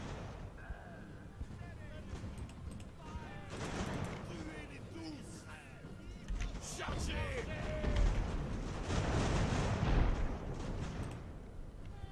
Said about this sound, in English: they're taking shots